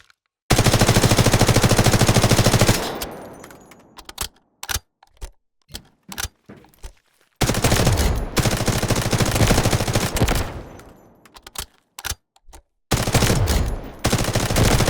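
Sustained bursts of M4A1 rifle fire in the shooter game Delta Force, loud rapid automatic strings alternating with short single and double shots, each ending in a fading echo, with no talk.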